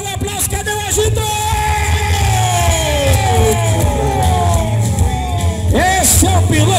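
A crowd at a Barretos motorcycle stunt show yells, whoops and cheers loudly and continuously, a mass of overlapping voices with brief bursts of shouting rising above the din.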